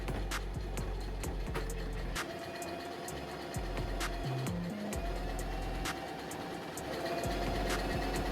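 A sewing machine running a straight stitch along shorts panels, a steady mechanical hum with rapid rhythmic clicking that continues throughout, with brief pitch changes midway.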